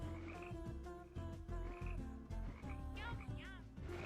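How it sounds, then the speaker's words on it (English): Frogs in a fish-themed video game croak in steady, repeated pulses, several voices overlapping at moderate loudness with a higher warbling call joining near the end, with no talking. "We're surrounded by frogs."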